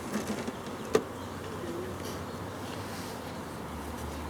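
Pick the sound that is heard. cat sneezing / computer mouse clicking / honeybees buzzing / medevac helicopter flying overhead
honeybees buzzing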